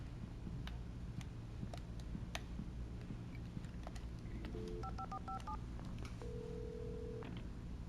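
A telephone being dialed in the video game Alan Wake Remastered: a handful of distinct keypad tones in quick succession, then a longer steady tone, over a low ambient hum and faint ticks.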